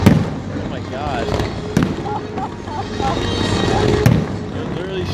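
Fireworks launching and bursting at an outdoor display, with sharp bangs near 0.1, 1.8 and 4.1 seconds over a steady crackling, crowded din. People talk excitedly throughout.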